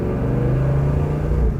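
A 1970 Chevrolet Chevelle with a 4-speed and an aftermarket exhaust idles and revs close by, a deep, steady throaty rumble with a slight rise in pitch.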